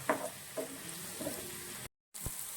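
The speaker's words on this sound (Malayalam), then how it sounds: "ഇതിലേക്ക് നമുക്ക് ഒരു 10-15 കശുവണ്ടി കൂടി നമുക്ക് ഇട്ട് കൊടുത്തിട്ട് ഒന്നും കൂടി നന്നായിട്ടൊന്ന് സോട്ട് ചെയ്യാം" Cashews sauté in a pan of oil while cooking paneer butter masala, making a steady close sizzle with a few stirring clinks. A brief dropout breaks it before it resumes.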